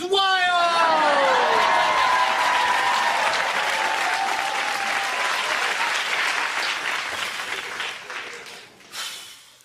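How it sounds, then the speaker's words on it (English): A stadium crowd roars with sustained cheering, whoops and applause at a medal ceremony, loud and continuous before tapering off near the end. "and the crowd goes wild!"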